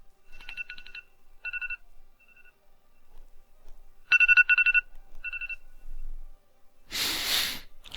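A mobile phone rings close by with bursts of rapid electronic trilling tones in short groups separated by pauses, then a loud breathy exhale follows at the end.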